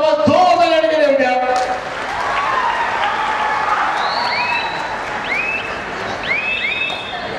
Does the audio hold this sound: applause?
yes